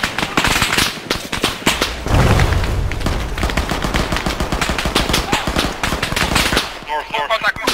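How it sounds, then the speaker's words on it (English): Rapid automatic gunfire crackles in an Arma 3 PvP military firefight, dense bursts of shots running nearly continuously, loud and close with some heavier booms, and brief voices near the end. "We're taking fire."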